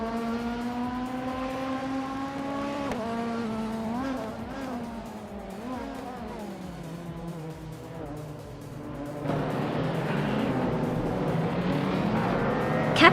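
A grid of race cars in a racing video game revs and buzzes at the start at Autodromo de Antioquia, with a Leon TDI on pole. Several steady whining engine tones climb and fall together, then swell into a louder, denser roar near the end.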